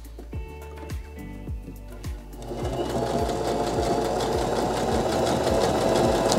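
A Baby Lock Joy or Zeal sewing machine makes a wide stitch at 3 mm length and its widest width. It starts with slow, evenly spaced needle thumps, then speeds into a loud, steady, close-up stitching whir.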